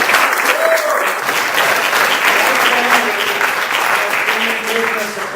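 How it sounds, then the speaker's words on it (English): Loud, dense crowd applause honouring the Lamon family for 100 years of service to the town, with a steady roar of clapping and a few faint voices underneath, tapering slightly at the close. "give them a big round of applause"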